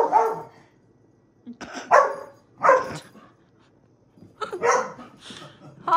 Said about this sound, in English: They got a little dog here